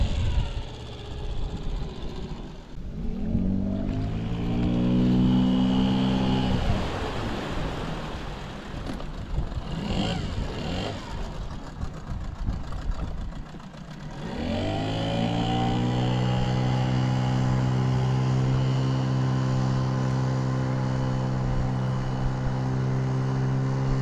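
A small motor boat with a new propeller runs at full throttle, its outboard engine rising in pitch twice as it speeds up, then holding a loud, steady drone, with water and wind noise and no talking.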